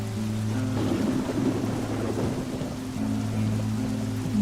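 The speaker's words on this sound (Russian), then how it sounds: "Дожди." Steady rain and rumbling thunder fill a stormy scene in the Western shooter Call of Juarez: Gunslinger, a continuous wash of downpour with low thunder rolling through, no voices over it.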